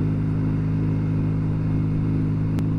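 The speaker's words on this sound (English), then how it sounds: "it's a Norton, the finest machine on the road." An old Norton 650SS motorcycle engine runs close by with a loud, constant throbbing drone and no talk over it.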